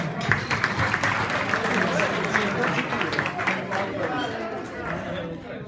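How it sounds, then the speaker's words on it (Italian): Steady applause from a room full of people at a Parma club festival dinner, with chatter and voices mixed in throughout. "Un applauso a Riccardo."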